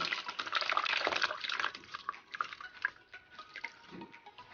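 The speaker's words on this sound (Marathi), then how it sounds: "जे फाटलेलं दूध आहे आपल्याला ते गाळून घ्यायचं आहे" Curdled milk trickling and dripping through cotton cloth, with soft wet splashes and drips, moderately close, fading into irregular small drips toward the end.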